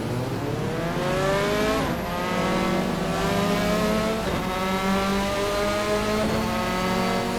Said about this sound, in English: Mazda RX-7 beside me and Alfa Romeo GTA in front of me.